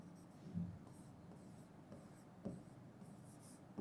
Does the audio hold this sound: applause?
no